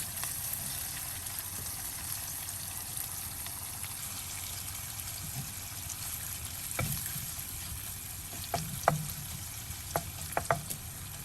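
Fish frying in hot oil in a pan, a steady quiet sizzle with scattered sharper pops and crackles growing toward the end.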